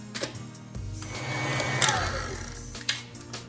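Electric mixer on medium speed beating thick buttermilk cake batter in a bowl, a steady whirring motor hum with rattling as the beaters knock against the bowl.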